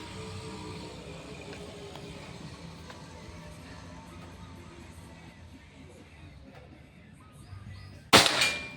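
A Pajero Gun Gen 6 air rifle fires one sharp, close shot during an accuracy test, arriving abruptly at the very end after several seconds of low ambient noise.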